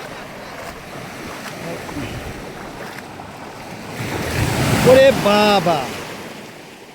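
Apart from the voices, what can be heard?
big ocean waves breaking on Bhola beach, Bay of Bengal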